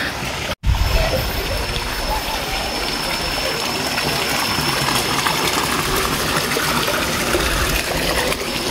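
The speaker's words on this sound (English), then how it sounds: "this water is flowing and it's safe to drink for those who can." Mountain spring water pouring steadily into a pool, a loud continuous broadband gush rushing without pause for the whole stretch after a brief dropout near the start.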